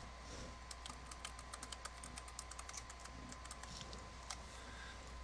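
Soft, quick keystrokes on a computer keyboard as a password is entered, a faint run of clicks over a low steady hum.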